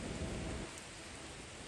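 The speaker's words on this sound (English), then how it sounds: "the rain is starting to pick up again" Steady rain falling outdoors on a wet morning, a dense hiss and patter that is heavier at first and then settles slightly, with no voices over it.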